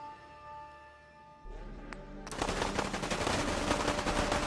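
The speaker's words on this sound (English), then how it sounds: "They're still shooting a whole bunch of stuff over this way." Dense, rapid gunfire from a video game bursts in after a quieter stretch and keeps going as a loud, continuous rattle of many overlapping shots.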